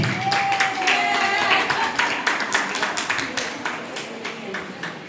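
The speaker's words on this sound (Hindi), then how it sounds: "जोरदार तालियां" An audience at a women's Lahariya festival held by the Gautam Samaj claps heartily, a crowd of hands beating in loose rhythm that carries on throughout, with a voice heard over it early on.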